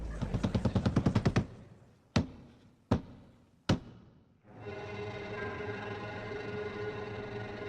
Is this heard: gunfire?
yes